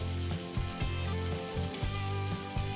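A jowar (sorghum flour) dosa sizzles and crackles steadily while it roasts on a hot pan, close and continuous, with faint rhythmic scraping over the frying.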